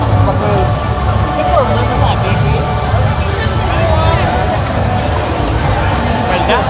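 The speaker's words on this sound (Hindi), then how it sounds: "सही भीड़ तो इधर है, भरे हुए हैं लोग" Dense festival crowd babble at Panaad sa Negros 2026 in Bacolod, a steady wall of many overlapping voices with distant engine and street noise, loud and continuous throughout.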